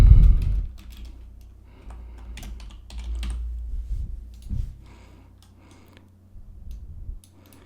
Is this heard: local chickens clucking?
no